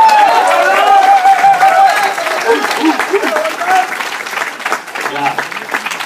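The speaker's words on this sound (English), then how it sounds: "let's hear it for Swaroop." Sustained applause and cheering from a theatre audience at a comedy show, dense and loud, with whoops over the clapping before it gradually thins.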